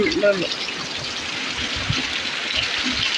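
Rain-swollen stream water gushing across a flooded field and neighbouring land during heavy rain and wind, a steady close rushing wash under someone speaking.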